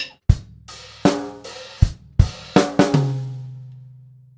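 Snare and bass drum play a short swung bar of eighth and quarter notes with rests, about nine sharp hits over four seconds, close and clear, the last stroke ringing out alone.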